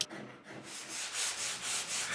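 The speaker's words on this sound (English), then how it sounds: "I'm using a medium cut Japanese Iwasaka file to remove the glue squeeze out and some of the tool marks" A medium cut Japanese Iwasaka file rasps along the back contour of a wooden guitar neck, clearing glue squeeze-out and CNC tool marks in a steady run of about eight even back-and-forth strokes, close and alone.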